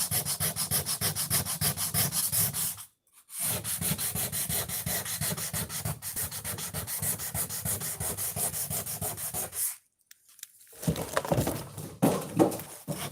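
An object is rubbed hard by hand in a fast, steady back-and-forth scrubbing rhythm, loud and close, with two short pauses before a rougher final stretch.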